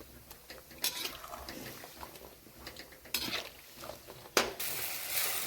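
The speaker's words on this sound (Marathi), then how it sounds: "हे खोबरं असं या तेलामध्ये तळायचं आहे" Grated coconut frying in oil in a pan, with a soft sizzle under clinking and scraping of a spoon against the pan and a few louder bursts as it is stirred.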